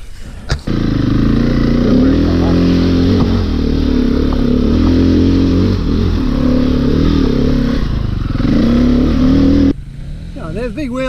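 Dirt motorcycle engine revving hard during a big wheelie, a loud sustained mid-pitched roar with rising and falling throttle that holds for about nine seconds, then cuts off as voices take over at the end.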